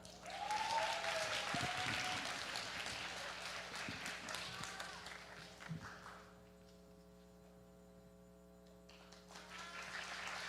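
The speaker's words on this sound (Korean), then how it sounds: "큰 박수로 맞이해 주세요." Audience applause in a hall at a student speaking competition, a broad wash of clapping over a steady mains hum that fades after about six seconds, leaving quiet hum before a brief swell returns.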